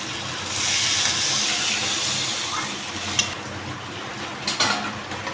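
Water poured into a pan of potatoes fried in spices for a katla fish curry raises a loud, steady steam hiss and sizzle that slowly eases, with a few sharp clicks and stirring knocks near the end.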